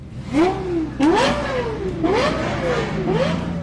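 A Lexus LFA V10 engine screams up and down in four sharp, rising wails, each climbing quickly then easing off, loud and close.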